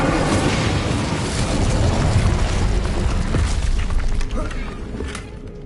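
Incendio fire spell cast in Hogwarts Legacy on PS5: a loud, sustained roaring burst of flame and rumbling booms fills the scene, with a voice faintly present underneath.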